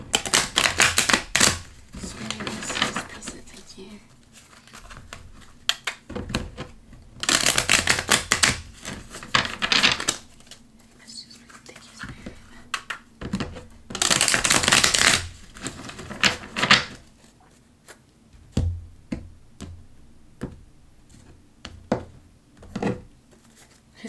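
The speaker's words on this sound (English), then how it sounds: "we'll shuffle and see what comes out." Tarot cards are shuffled in repeated riffling bursts, loud and close, with quieter taps and handling noises between them.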